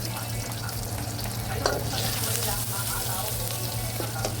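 Garlic fries in butter in a pan, a steady close sizzle with a low hum underneath and occasional clicks of stirring.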